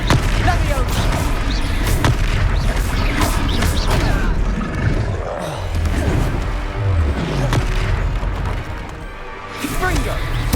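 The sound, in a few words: Confringo spell blasts in Hogwarts Legacy video game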